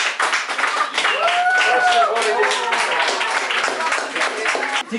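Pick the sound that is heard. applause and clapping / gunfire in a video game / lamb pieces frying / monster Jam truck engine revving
applause and clapping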